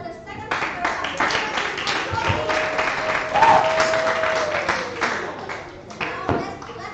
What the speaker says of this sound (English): Give applause for the second speaker